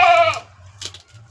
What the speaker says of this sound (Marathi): आणि गाईज आम्ही एक शेळी पण आणलेली आहे